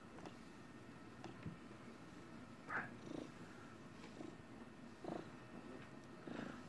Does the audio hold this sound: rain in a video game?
no